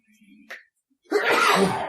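A single loud sneeze bursts out after a short, quiet intake of breath, close and abrupt.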